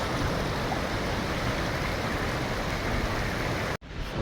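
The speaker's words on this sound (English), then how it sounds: "It's a lovely little river, I'm not sure what it's called." A small river on the Hadrian's Wall trail near Crag Lough in winter, flowing with a steady, close broadband rush that holds evenly throughout and cuts off abruptly near the end.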